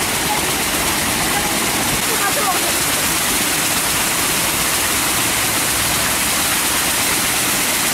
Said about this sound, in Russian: Идем на водопад.